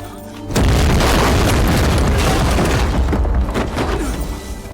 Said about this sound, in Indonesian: mobil itu meledak hebat